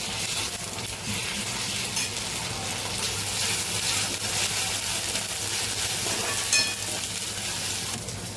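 Ginger-garlic paste sizzles steadily in a pan of steamed dal with garlic, tomato, green chilli and turmeric, a dense continuous frying hiss at close range with faint stirring and no voices.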